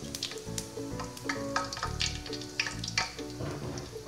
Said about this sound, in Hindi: अब हम इसमें 1 चम्मच भर के साबुत जीरा डालते हैं। हल्का सा भून लेते हैं।